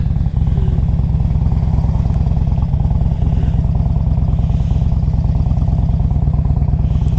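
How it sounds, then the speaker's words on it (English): A 2005 Harley Davidson Electra Glide Classic 1550 with a big bore kit idles steadily nearby, its loud, even, rhythmic engine thump running without a break and no talk over it. "This is a good running bike."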